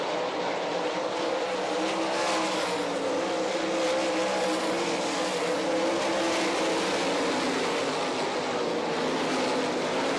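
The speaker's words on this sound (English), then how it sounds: "Five laps down, 5 to go in the Pennzoil World of Outlaws B-Main, and Blake Feast running away with this one." World of Outlaws sprint cars racing in a B-Main at Rossburg, Ohio, a loud, continuous roar of engines under full throttle that holds steady throughout with no talk.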